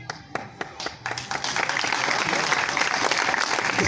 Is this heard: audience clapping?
yes